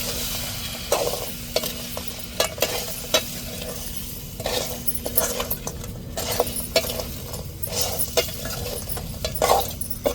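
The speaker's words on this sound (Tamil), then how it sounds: "நல்லா வதங்கிட்டு இப்போ நண்டை சேர்த்துக்கணும்." Crab added to sautéed onions in a pan for crab fry, a steady sizzle under repeated metallic spatula clinks and scraping strokes, close and continuous.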